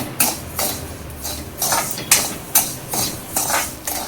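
Coarse, reused salt roasts over high heat in a pan while a spoon stirs it, giving loud, regular gritty scraping strokes about twice a second, alone with no talk.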